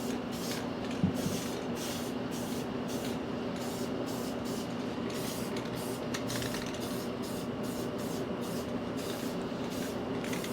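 Continuous hiss of spray paint being applied to a part of a CJ5 Jeep, a steady airy spray in short repeated bursts with faint background hum and no talk.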